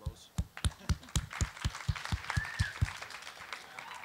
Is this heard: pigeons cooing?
no